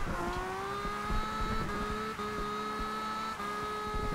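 A 1969 Nissan Fairlady Z drifting in Forza Horizon 2, engine holding a sustained high rev with a steady whine and rising pitch, brief dips at gear changes, loud and close, no talking.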